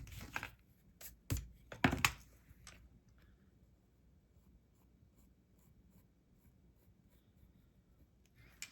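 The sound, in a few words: pencil drawing on paper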